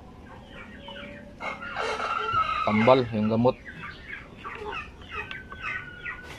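Hens clucking and squawking close by, with a burst of louder cackling midway, while a person talks over the birds.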